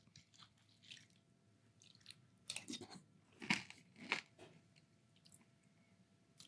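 Spoonfuls of Wheaties Protein Honey Almond cereal in milk being eaten, with a few close, soft crunching bites and wet chewing in a quiet room, faint between bursts.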